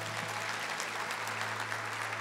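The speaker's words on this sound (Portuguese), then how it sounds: "Pode aplaudir" A congregation applauds steadily during a Catholic Mass homily, a dense wash of clapping hands heard from within the room, with a low steady hum underneath.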